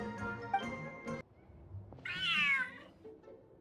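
A cat from the video game Genshin Impact gives one drawn-out, rising and falling meow, clear and close, after a stretch of musical game sounds.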